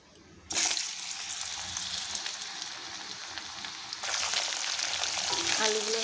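Cut potatoes drop into hot oil and burst into a loud, dense sizzle that continues steadily, growing brighter as the pieces are stirred.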